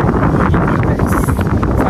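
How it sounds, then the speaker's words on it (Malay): Strong mountain wind on Gunung Jerai in Kedah buffets the microphone, giving a loud, steady roaring rumble with gusty fluctuations and no clear voices. "Wah, angin kuat lah."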